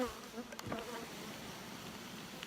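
Honeybees buzz steadily around stacked hive boxes in a cold Canadian spring bee yard. The hum is continuous and moderately close, with a few individual bees passing louder near the listener. No one talks.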